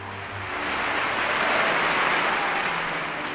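Townspeople out in the streets clapping for Miguel Hidalgo's arrival in his city: a thick, even roar of applause that rises, holds, then eases slightly, with a low hum underneath and no voices.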